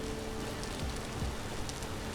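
Steady rain falls in the survival video game Vintage Story, a dense, even hiss of drops on surfaces throughout, close and continuous with no talking.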